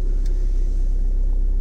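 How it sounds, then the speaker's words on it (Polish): A 1.6 TDI car engine runs at a raised idle of about 1000 rpm, giving a steady, close, low diesel rumble that holds even throughout. "Samo podnosi obroty na 1000."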